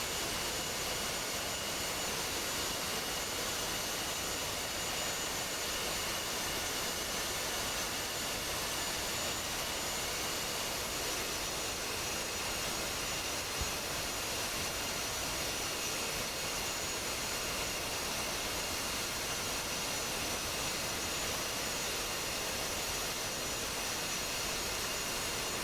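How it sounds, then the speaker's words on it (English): Jet aircraft engines taxiing in a flight simulation game, a steady broadband roar and whine held at constant loudness throughout, with no talk over it. "Winchester is taxiing, Arcadius is taxing behind."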